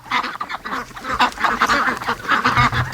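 A group of ducks, newly hatched stock kept in a wire pen, quack and honk loudly and continuously at close range, several birds calling over one another in a busy, overlapping chorus.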